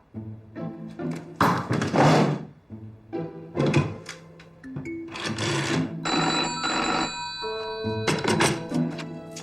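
An old-style telephone bell rings in repeated bursts, broken up by a few dull thunks and knocks nearby.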